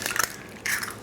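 Eggs cracked in a home Italian kitchen while making arancini, two sharp close cracks with a brief pause between them.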